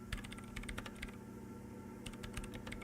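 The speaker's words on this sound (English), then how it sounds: "Didn't stop the typing sounds." Keyboard typing from a computer during a Disco Elysium play session, steady bursts of clicking keystrokes that pause briefly near the middle, close and fairly quiet over a low background hum.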